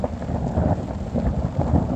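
Thunder rumbling through a heavy rainstorm in the Canadian Rockies wilderness, a continuous low roll under dense rain with no voices.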